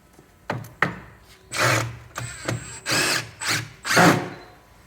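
A power drill drives screws into a bin store panel, giving a few short clicks and then several separate whirring bursts of about half a second each, close by and loud, with no talking.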